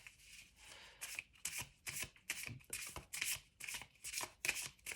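Tarot cards being shuffled by hand, repeated crisp riffling bursts in a steady rhythm, close and fairly quiet with no talk.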